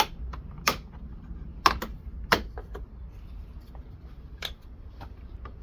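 Plastic trim on a Toyota TRD Pro is pulled loose, giving a few sharp, close clicks and snaps spaced irregularly over a quiet background.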